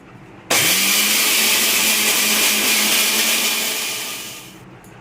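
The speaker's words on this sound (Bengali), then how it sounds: "এই যে ডালটাকে পেস্ট করে নিচ্ছি" Electric mixer grinder blending soaked urad dal into a smooth paste, starting abruptly with a loud, steady high-pitched whirring motor roar that holds for about four seconds, then fades as it winds down.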